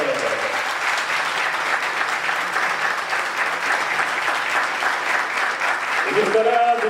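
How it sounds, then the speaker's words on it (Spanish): Loud, continuous clapping from an audience welcoming a historian lecturer at a conference, filling the room evenly before a voice begins speaking at the very end. "Con el aplauso de ustedes, recibimos al licenciado"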